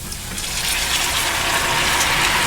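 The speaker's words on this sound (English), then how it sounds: "You just put a little bit of water." Water splashed into a hot pan of frying pork for chicharrón, giving a loud, steady hiss and sizzle that swells and holds for a couple of seconds with no talk.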